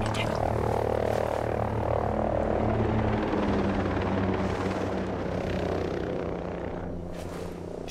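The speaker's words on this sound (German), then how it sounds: "Oh, nein, Heli." A patrol helicopter in a stealth video game mission drones overhead, a steady loud rotor hum with low throbbing tones that lingers throughout and slowly fades near the end, with no talking.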